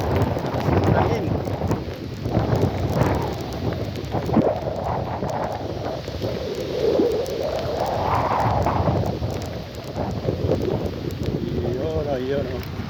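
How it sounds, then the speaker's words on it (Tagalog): Heavy outdoor wind buffets the microphone in a continuous rumbling roar. A voice is faintly audible underneath the gusts. "Mahangin nga lang guys."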